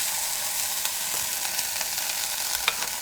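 Meat-style curry is stirred and poked in a heavy, very hot clay pot, making a continuous sizzling hiss with a few soft scraping knocks, close and alone.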